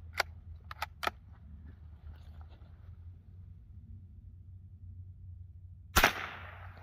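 A single .22 LR bolt-action rifle shot cracks out sharply and fairly loud outdoors, preceded by a few quiet clicks of the action against a low background hum.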